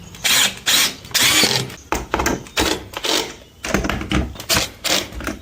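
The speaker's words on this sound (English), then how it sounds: "I'm not going to use the original screws. I'm using these self-drill screws." Self-drilling screws are driven into a wall with a power driver while mounting a magnetic power strip, giving repeated loud bursts of whirring and grinding with short gaps, close by.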